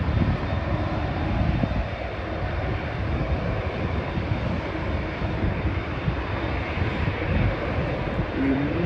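A fixed-wing airliner takes off at Schiphol airport, its engines giving a steady, heavy roar that stays loud and broad throughout, heard from outdoors with some wind rumble.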